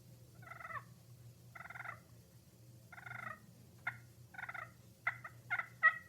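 A slate turkey call makes a soft rolling purr: several fluttering, trilled bursts, then a few sharper clucks toward the end, close but fairly quiet over a low background hum.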